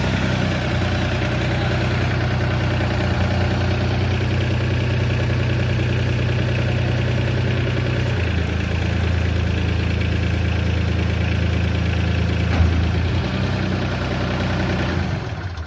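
A Solis 24 universal tractor engine idling steadily, a continuous loud low rumble and mechanical clatter with no break, the pitch shifting slightly partway through.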